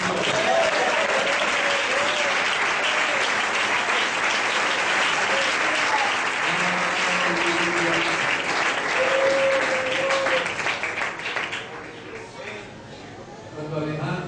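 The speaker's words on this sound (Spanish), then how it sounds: "Un aplauso para el Señor." A church congregation applauds loudly and steadily in praise, a dense sustained clatter of clapping with voices mixed in, fading toward the end.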